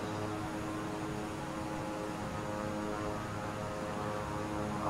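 A fixed-wing plane's engine hums steadily at low level as the throttle is eased to zero in Microsoft Flight Simulator, a constant droning whir with no voices.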